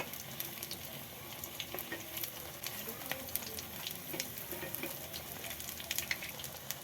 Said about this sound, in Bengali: এবার এটা ভাজা হওয়া পর্যন্ত অপেক্ষা করব